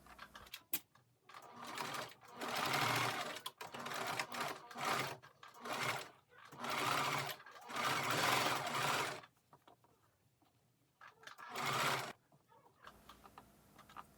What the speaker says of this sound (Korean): 커프스의 3면을 돌아가면서 탑 스티치로 마무리를 합니다.